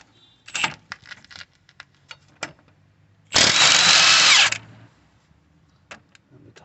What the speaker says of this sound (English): Just going to use our gun for that.